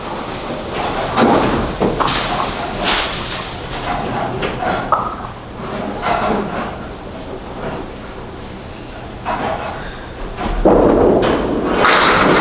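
Bowling balls strike pins in a noisy bowling alley during a league event, with several loud thuds and clattering crashes spread across the clip amid steady crowd and lane noise.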